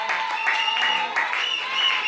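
Church congregation applauding and cheering during a sermon, a dense continuous wash of clapping with voices mixed in.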